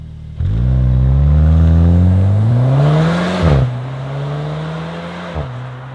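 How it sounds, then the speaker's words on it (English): A 2023 Volkswagen Arteon R Shooting Brake starts up and pulls away on the road, its engine note climbing steadily through a gear before a brief shift dip and then settling into a steady, close cruising drone. "Let's get this car out on the road."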